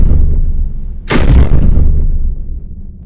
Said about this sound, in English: That's the Demolisher cannon.